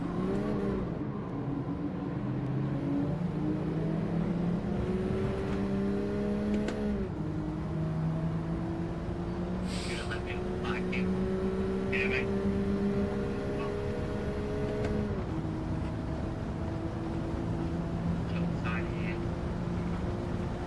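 Racing cars run two wide into a corner during a qualifying lap, engines droning and rising and falling through gear shifts, with a voice talking over the steady motor noise.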